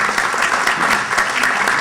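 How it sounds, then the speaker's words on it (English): Audience applause at an evening community event, the Oshkosh Outlook 2014 gathering, a steady dense clapping from a crowd that fills the room evenly without a break. "Can we applaud? Yes, we can."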